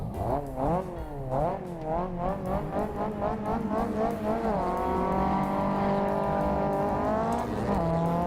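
Race car engine induction noise from a sim racing game, heard from the onboard view: a loud, rising and falling engine whine through repeated upshifts, then a long sustained high-rev drone near the limiter.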